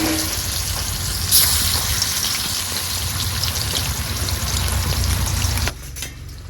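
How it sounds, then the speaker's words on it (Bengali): Pangas fish frying in hot oil gives a dense, continuous spattering crackle, loud and close, like heavy rain, that drops off abruptly near the end. "এই মাছ কিন্তু খুব সাবধানে ভাজবেন এই মাছে ভীষণ তেল ছোটে"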